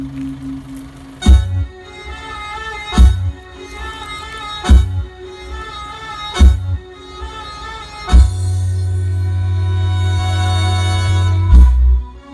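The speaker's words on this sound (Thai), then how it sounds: "ฟังเบสข้างรถครับผม" Deep, booming bass from a 12-inch car subwoofer box playing Thai luk thung music, heard beside the car, with heavy low thumps every couple of seconds and a sustained rumbling bass note later on.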